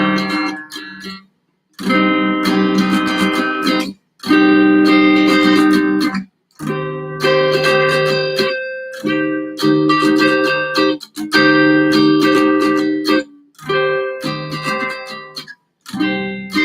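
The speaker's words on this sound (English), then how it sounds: "Now the rhythm chords. It sounds something like this right here." Live electric guitar strumming rhythm chords in repeated bursts separated by short silent breaks, close and clear with no voices.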